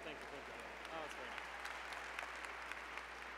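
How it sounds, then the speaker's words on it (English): Applause at an annual awards ceremony, a steady wash of distant clapping from a crowd, with a voice speaking briefly at the start. "A round of applause, please"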